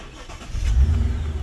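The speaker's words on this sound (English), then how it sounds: "Start my car and see if we have any communication." A 2008 Mercedes-Benz CL500 engine cranks and catches, a short low rumble that swells as it fires and settles toward idle, heard close with no talk.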